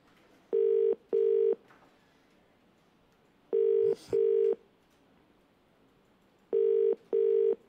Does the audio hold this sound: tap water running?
no